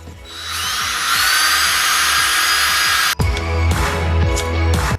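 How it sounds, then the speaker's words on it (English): A power drill bores a hole in wood, its motor whining loud and steady for about three seconds, then pausing briefly and revving again with a rougher, strained tone. "I've just drilled my hole"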